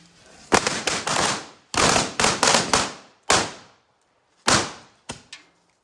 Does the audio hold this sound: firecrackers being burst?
yes